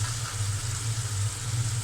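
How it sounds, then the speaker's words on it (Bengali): Pieces of hilsa fish dropped into masala that has been fried down in a pan, giving a steady close sizzle with a low hum beneath it and a small knock at the end, with no speech. "আমি এই মশলার মধ্যে মাছ দিয়ে দেব"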